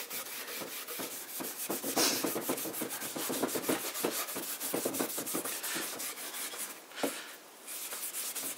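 Close, steady rubbing strokes as boiled linseed oil is worked into a stripped antique wooden cabinet, a quick rhythmic scrubbing that carries on throughout with no talking.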